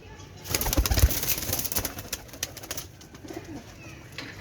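Blue (neely) pigeons cooing nearby, soft repeated coos over a bustle of wing flutters and movement, loudest early then tapering off.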